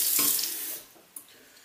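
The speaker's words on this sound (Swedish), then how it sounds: "Sen bara lite vatten här i." Water from a tap pours briefly into a jar while making a Greek frappé, a loud splashing rush that fades out within about a second, followed by a small clink.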